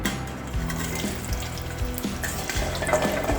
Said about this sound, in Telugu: ఆయిల్ హీట్ అయిందండి ఇప్పుడు మనం ఉసిరికాయలు వేసుకుందాము